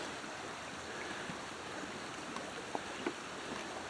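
Hagood Mill Creek flows steadily in a broad, even wash of moving water with a few faint splashes or clicks, heard alone without talk.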